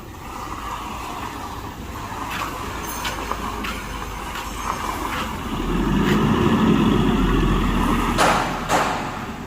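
A pickup on its original axle with added reinforcing leaf springs, built to carry three tons, rolls along on a test drive, a low road rumble with scattered thumps and rattles from the body and suspension, growing louder midway, no talking.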